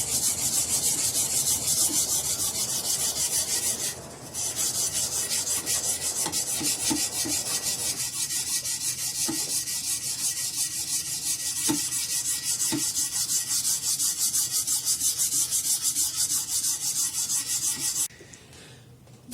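A knife blade is drawn repeatedly across a very coarse sharpening stone on a Hapstone convex rod adapter, a continuous gritty rasping with a short pause near the start and an abrupt stop at the end.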